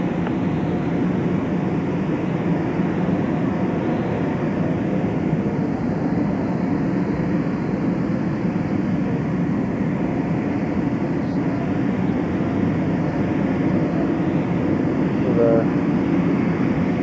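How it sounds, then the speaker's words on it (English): Navy Blue Angels jet aircraft practicing at Moffett Field in 1992, a steady broadband roar holding loud and constant overhead throughout, with no break in the engine noise. "The Blue Angels Special Forces type plane. Coming for a dive here."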